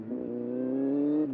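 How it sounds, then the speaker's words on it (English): A Kawasaki Z800 motorcycle engine revs inside a tunnel, a short, rising, humming drone with a strong low tone that lasts just over a second, close and moderately loud. "here's a tunnel, so let's give it a rev."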